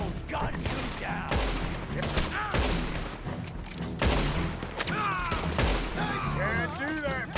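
Dense gunfire from Red Dead Redemption 2 crackles in rapid volleys, loud and close, with shouting voices over the shots throughout.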